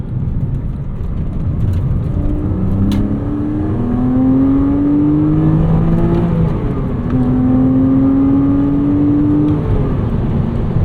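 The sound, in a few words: Porsche Cayman S flat-six engine revving to 7250 RPM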